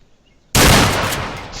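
A single sharp sniper rifle shot in a video game, one loud sudden blast that rings out and fades over a second, with no voices.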